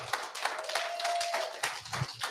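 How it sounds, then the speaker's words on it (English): A small audience at an evening gathering in a pub claps sparsely, with scattered individual claps rather than a full ovation, fairly faint and brief. "Give yourselves a round of applause."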